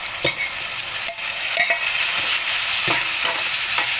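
Onions frying in a pan with precooked cowpeas for a paneer cowpea curry: a steady close sizzle with a few soft stirring scrapes and clinks, no talking.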